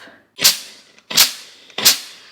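Three sharp hissing steam bursts from a Power XL iron and steamer, evenly spaced and loud, each a quick puff that fades fast, with no talking.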